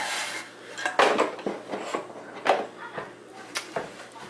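The base plate of a Snapmaker 2.0 3D printer is flipped over, producing several close metallic clunks, knocks and scraping rubs against a hard surface, spaced irregularly with quiet gaps.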